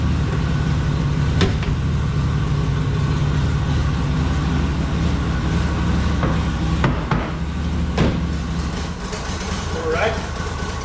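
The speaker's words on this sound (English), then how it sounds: "Wonder if it'll stay running off of just the mechanical pump." A 1960 Ford Ranch Wagon engine, long abandoned, runs at a steady rough idle close by, with a few scattered clicks and knocks over the continuous low rumble.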